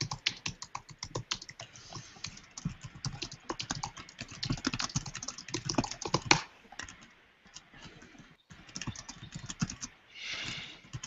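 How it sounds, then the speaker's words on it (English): Rapid typing on a computer keyboard clatters in irregular bursts of close, crisp key clicks, pausing briefly before resuming. "You hear me typing."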